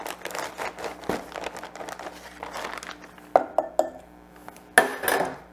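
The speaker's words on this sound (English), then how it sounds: "And I'm also going to add 1/2 cup of light brown sugar." Half a cup of light brown sugar going into heavy cream and melted butter in a pan: clinks of a spoon and pan and crinkling packaging, with a few sharp knocks near the end, close and without speech.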